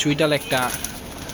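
Pigeons coo in two close, throaty bursts, loud and near, followed by quieter background noise.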